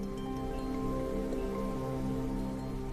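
Steady rain falls throughout, a dense even patter of raindrops on surfaces with no pauses, fairly loud and close, with nobody speaking.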